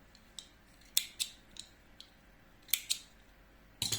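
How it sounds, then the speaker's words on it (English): Several crisp scissor snips cut through crochet yarn, sharp isolated clicks spaced irregularly with a quick double snip near the end, close and fairly quiet in a still room. "Okay, I am cutting the yarn."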